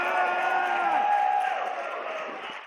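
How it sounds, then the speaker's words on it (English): A crowd cheers and whoops for women fighters at a lightweight pro-fight event, a sustained loud roar of voices with scattered shouts that fades slightly toward the end. "Give them a cheer."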